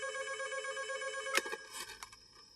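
A telephone rings with a steady, harmonically rich electronic bell tone, followed by a couple of short clicks as it is picked up, heard close and clear without talk.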